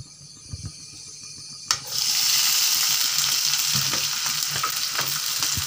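Okra hits hot oil on a gas stove in an old home kitchen, a sudden loud sizzle that swells and holds steady, following a few faint knocks and clinks.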